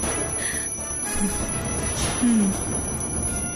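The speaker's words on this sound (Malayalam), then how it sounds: "ഈ സമയത്ത് ഇതാരും അലാറം മുഴക്കുന്നത്?" An alarm rings indoors in a house, a steady high electronic tone running through the whole moment with no one talking over it.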